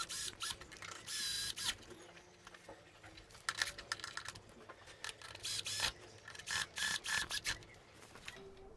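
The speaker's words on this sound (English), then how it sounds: "Now we need to tighten all of these screws which we have kept loose." Screws are tightened on an Ikea Renberget office chair, giving close, irregular bursts of small clicks and scraping taps separated by brief pauses.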